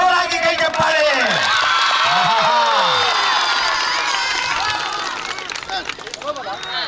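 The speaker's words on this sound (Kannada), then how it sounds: "ಜೋರಾಗಿ ಕೈ ಚಪ್ಪಾಳೆ" A school event crowd erupts after a ribbon-cutting, with loud whoops, rising shouts and cheers over dense babble. The noise stays strong and then eases slightly toward the end.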